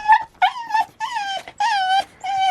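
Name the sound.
dog Kai barking and whimpering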